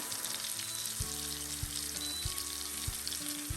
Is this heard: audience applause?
no